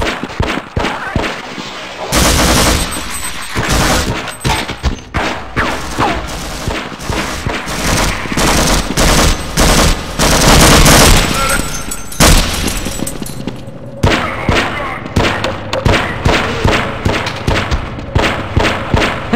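Dense gunfire and booming blasts from the Half-Life: Uplink shooter game, loud and sustained with rapid overlapping shots and heavy thuds, a brief lull near the middle, with voices now and then underneath.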